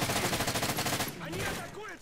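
Burst of rapid gunfire in a video game as a bear is shot, a dense string of loud shots for about a second, then quieter scattered game sounds.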